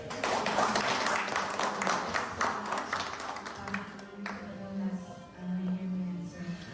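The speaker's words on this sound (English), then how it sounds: "can we give a round of applause once again to Sir Dantes?" An audience at a Dr. Jose Rizal commemoration in Dubai giving a round of applause, moderate steady clapping that fades after a few seconds into a quieter room tone.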